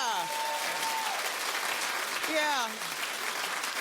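A studio talk-show audience bursts into steady applause and cheering, with a host's voice talking over the clapping.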